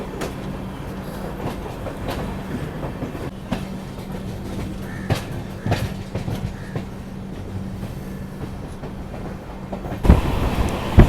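A train bound from Bangalore toward Kanyakumari rolls past on the coastal line, a continuous rumbling roar with rhythmic wheel clicks over rail joints and a sharper burst of noise near the end.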